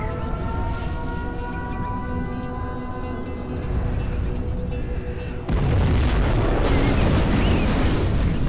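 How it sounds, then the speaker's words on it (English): A nuclear missile launches in the strategy game Command & Conquer Generals Zero Hour, a sustained rumbling tone that suddenly erupts into a loud, broad roaring blast partway through, with no voices. "We have launched our nuclear missile."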